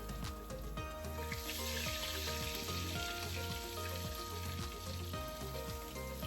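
Swai fish fillets frying in oil: a steady, dense sizzle and crackle with scattered pops, continuous and fairly close throughout.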